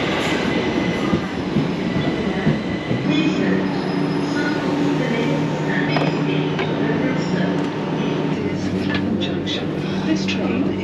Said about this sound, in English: This train is the First train of the trip, Mr. P.